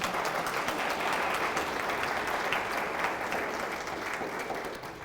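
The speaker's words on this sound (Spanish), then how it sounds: "Sí, aplauda al Señor" A church congregation claps together during a Spanish-language sermon, a thick continuous wash of applause at moderate loudness that tapers slightly toward the end, with no speech on top.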